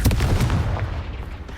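The Confringo fire spell in Hogwarts Legacy detonates as a loud, booming blast that decays over about a second and a half.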